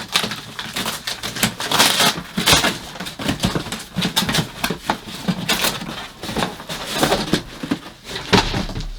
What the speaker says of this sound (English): I'm gonna tear this box open